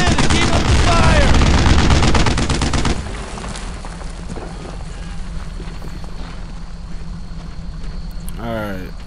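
Rapid bursts of rifle and machine-gun fire in the World War II shooter Brothers in Arms: Earned in Blood, loud and dense for the first few seconds, then fading to low ambient battle rumble with a faint clank near the end.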